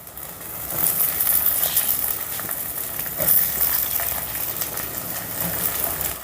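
Half a kilo of cut eggplant pieces frying in a pan with softened onions, a loud continuous sizzle with bursts of stirring and rattling as the pieces are tossed.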